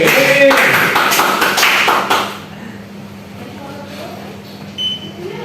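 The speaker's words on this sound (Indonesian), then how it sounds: "Tepuk tangan dong" A class of primary-school pupils claps for a student during a religion lesson, a brief burst of hand clapping for about two seconds before it falls away into quiet room sound.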